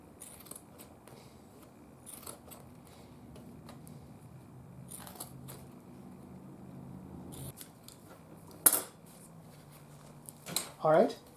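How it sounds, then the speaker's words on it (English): Scissors trim new grill cloth for the speaker of a Zenith Boomerang radio being restored, a few soft quiet snips over a low steady hum, with brief louder cuts near the end. "now we'll get a scissors and we'll trim it"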